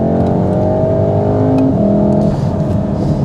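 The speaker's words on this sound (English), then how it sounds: "So we're going to third gear. We've got a nice bend here as well, so coming out the bend we'll just accelerate a tad." A Mountune-tuned VW Mk7.5 Golf R accelerates in third gear out of a bend, its engine droning loud and steady from inside the cabin, with the tone climbing gradually as revs build.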